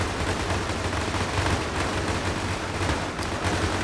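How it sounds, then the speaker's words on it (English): Massed gunfire from German bolt action rifles in a World War Two trench battle video game against orcs and trolls, a dense continuous roar of overlapping shots throughout, loud and distant-sounding with no clear gaps. "We got our German bolt action rifles going on again."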